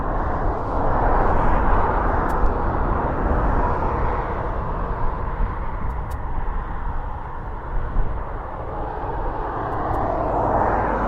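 An airplane arriving over an airport runway, its loud, steady jet roar filling the whole stretch as it passes near the end of the runway, with no talk.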